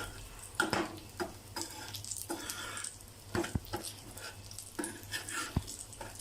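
Brinjal slices shallow frying in oil in a pan for crispy fried brinjal, a soft steady sizzle with scattered clicks and scraping taps from turning the slices, fairly quiet and close.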